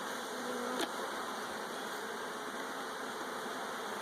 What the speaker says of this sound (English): These bees aren't too aggressive.